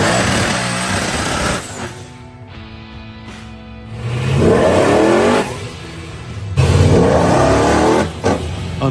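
Chevrolet Nova with lowered rear tire pressure doing a burnout in a parking lot; loud engine revving in repeated surges, rising and dropping between bursts of throttle, close and dominant with no voices.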